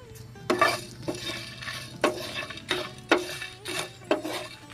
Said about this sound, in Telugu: మళ్ళీ ఇట్లా కూడా లైట్ గా ఫ్రై చేయాలి